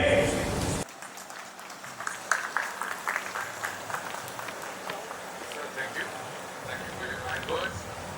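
Audience applause at an awards gala welcomes an entertainer onto the stage: a loud burst at the start drops into a steady patter of clapping that continues under a voice speaking.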